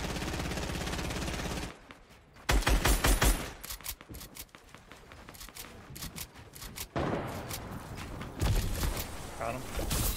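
Rapid gunfire from a shooter video game, with loud bursts of automatic fire and sharp single shots coming in clusters over the first two seconds and again through the middle and end, alongside game effects and talk.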